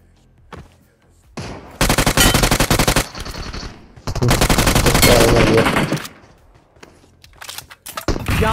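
Rapid SKS rifle fire in a mobile battle-royale shooter game, two long loud bursts of dense gunfire separated by quieter gaps with a few scattered single shots, heard up close.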